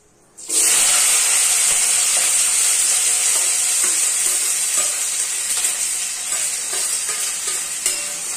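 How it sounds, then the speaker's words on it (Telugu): Onions, green chillies and curry leaves drop into hot fried spice masala in a pan and sizzle loudly, a steady bright frying hiss with faint scraping as the mix is stirred, close by and with no talking. "ఆనియన్ మంచిగా ఫ్రై అవ్వాలి"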